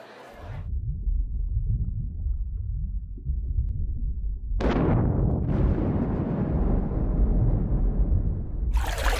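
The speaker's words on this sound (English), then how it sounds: "A small underwater explosion startles a school of fish." A small underwater explosion goes off, sending debris up from a rocky crag: a loud, deep, muffled rumble that swells after a few seconds into a broad, sustained roar with no voices.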